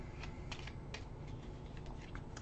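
Quiet shuffling of a discard pile of game cards, a series of light, quick clicking card riffles over a low background hum, close and soft with no talking.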